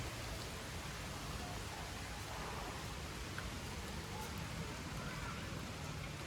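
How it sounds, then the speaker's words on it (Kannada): Steady, dense rain hissing down without a break, a constant wash of drops on surfaces nearby. "ಮಳೆ ಹೊಡಿತಾ ಇದೆ."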